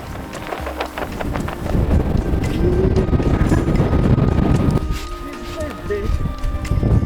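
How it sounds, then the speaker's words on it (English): Strong wind buffets the microphone with a constant rough roar, while a voice talks briefly underneath. "So windy."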